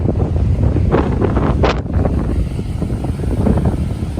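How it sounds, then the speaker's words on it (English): A strong southwesterly wind roars across the Durban shore, buffeting the microphone in loud, rumbling gusts, with surf washing faintly underneath and no talk. "Wind is extremely strong here."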